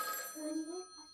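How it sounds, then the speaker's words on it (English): A telephone rings in the video game Schrödinger's Call with a short, clear electronic trill lasting about a second. "The phone's ringing."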